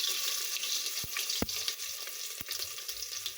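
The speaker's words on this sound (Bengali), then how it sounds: "প্রথমে একটা পাত্রে তেল গরম করে তেলের মধ্যে দিয়ে দিলাম হাফ টিস্পুন জিরা, দুটো তেজপাতা" Half a teaspoon of cumin seeds and two bay leaves sizzle in hot oil in a pan, a steady close crackling hiss broken by a few sharp clinks.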